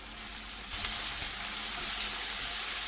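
Onions and tomatoes fry in hot oil with cumin seeds, mustard seeds, dried red chilies and garlic for masoor dal, giving a steady close sizzle throughout with a brief louder crackle near the start.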